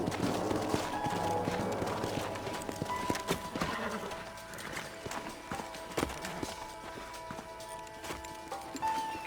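Hooves clip-clop steadily as horses move, with a horse whinnying partway through, over a busy layer of background game sound, in the video game Red Dead Redemption.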